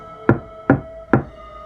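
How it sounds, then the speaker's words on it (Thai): Three firm knocks on a door, evenly spaced about half a second apart, each a sharp close thud with a short decay, alone in a quiet room. "แต่เสียงเคาะประตูยังคงอยู่เลยครับ"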